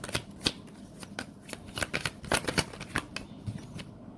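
Tarot cards are shuffled close up in quick, crisp riffling bursts and slaps that repeat at an uneven rhythm, with no voice over them.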